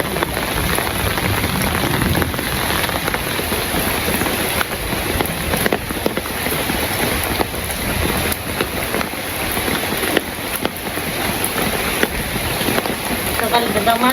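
Heavy rain falls steadily during the rainy season, a dense, continuous patter on surfaces close by, loud and unbroken throughout.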